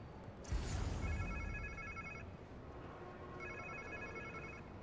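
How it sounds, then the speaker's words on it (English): Phone ringing in the video game Marvel's Spider-Man 2: two bursts of repeated electronic ring tones, first near one second and again after three seconds, over a steady game ambience. "Sounds like somebody's phone."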